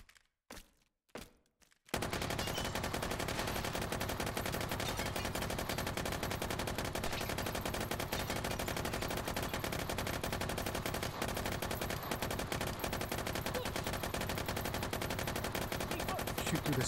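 Uzi fire in the VR shooter Hot Dogs, Horseshoes & Hand Grenades: a few sharp isolated shots, then a long, loud, continuous stream of rapid automatic fire that barely pauses.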